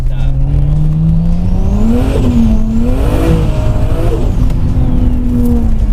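Toyota Supra with a 600 hp single-turbo engine accelerating hard, a loud close roar climbing through the revs with wavering pitch and brief dips at shifts, under a talking voice.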